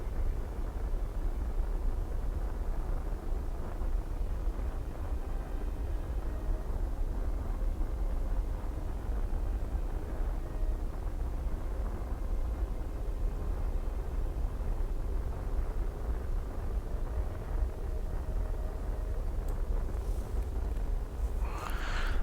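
A rocket engine burn in the Kerbal Space Program video game, using a restocked exhaust effect, gives a steady low rumble with a faint airy hiss. It stays even and continuous throughout, with no voices.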